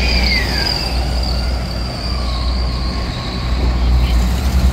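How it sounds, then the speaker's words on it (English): A PATH train rumbling past on Church Street in lower Manhattan, a loud continuous roar of rail noise with a faint high wheel squeal near the start. "this is the PATH train area"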